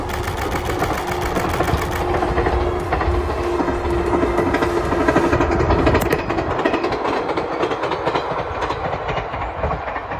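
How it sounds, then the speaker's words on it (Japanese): A 413 series train rumbles steadily past up close at good speed, with rhythmic clattering of wheels over rail joints and a faint steady tone, loud throughout. "なかなかのいい速度で列車は通過をしてきました"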